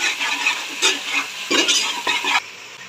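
Ground coriander, red chili powder, turmeric and crushed red chili are stir-fried in a pan for haleem, close up, with a soft sizzle under repeated scraping strokes of a spoon. No voices.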